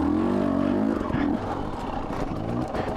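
A Husky TE250i dirt bike engine drones and revs on a wooded trail ride, close and loud, dropping back to a rough, steady running note while a voice talks faintly over it.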